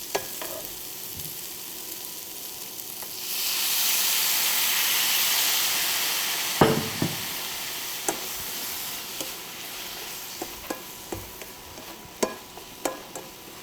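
Square-cut vegetables sweating in a pan with a splash of water, a steady loud sizzle and hiss rising after a few seconds, punctuated by scattered clicks and stirring taps.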